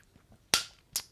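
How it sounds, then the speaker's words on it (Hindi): Two sharp hand claps, offered in thanks to God, sound close and crisp less than half a second apart against a quiet background. "यहां ताली बजाकर परमेश्वर को धन्यवाद देंगे"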